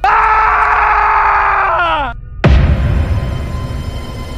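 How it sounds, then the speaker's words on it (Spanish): A long, loud, wavering human scream cuts off abruptly, followed by a sharp sweeping noise and rumbling dramatic sound effects. "esa tranquilidad rápidamente se vio interrumpida por un espeluznante grito"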